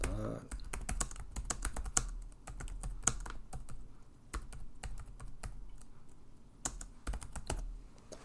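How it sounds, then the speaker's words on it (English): Keys clatter on a computer keyboard as text is typed into a box, a quick irregular run of clicks up close with brief pauses between bursts and no talk over it. "The text, let's type it in correctly."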